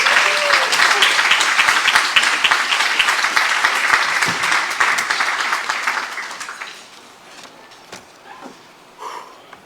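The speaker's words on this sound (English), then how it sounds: "Let's give him a round of applause." Dense, sustained audience applause fills a hall at the 2025 Mount Vernon High School Hall of Fame induction, then thins after about six seconds into scattered claps.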